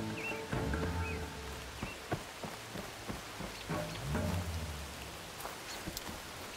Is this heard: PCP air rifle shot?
no